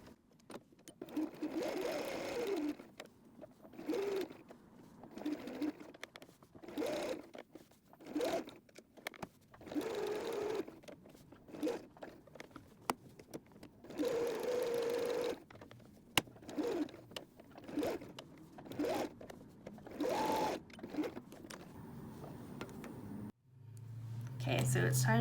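A sewing machine zigzag-stitches an appliqué onto fabric for a cuddly travel pillow, running in short repeated bursts between pauses while a person talks softly over and between the stitching.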